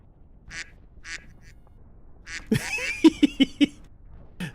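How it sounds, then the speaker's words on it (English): A cartoonish duck quack sound effect, set off in an online tabletop role-playing game when someone walks near a trigger, sounds four times in quick succession after some faint background chatter. "If someone walks near it, it quacks."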